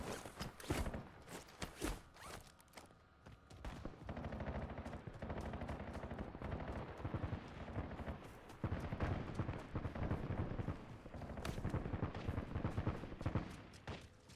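Gunfire in Call of Duty Warzone, dense rapid bursts and repeated shots crackling almost continuously over a busy game mix, fairly loud and close throughout.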